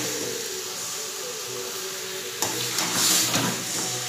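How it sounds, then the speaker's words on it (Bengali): Chicken being stir-fried and browned in a pan, with a steady low sizzle that grows into louder scraping and stirring bursts in the second half, close and alone without talk. "ভালো করে কষব"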